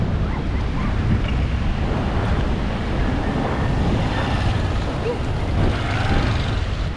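Loud, continuous roar of surf with heavy wind buffeting the microphone, a dense wash of sound with no clear breaks.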